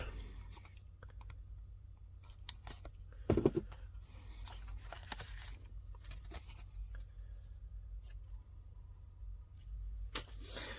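A large padded mail envelope is torn and pried open up close, with quiet crinkles and scrapes and a brief louder rip near the middle, all without speech.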